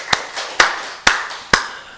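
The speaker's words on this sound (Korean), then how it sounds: "우리 박수를 하나님께 영광을 드리겠습니다." Four sharp, evenly spaced claps ring out at a Korean church's Wednesday worship service, each a loud, crisp hit with a short room echo, and no talking.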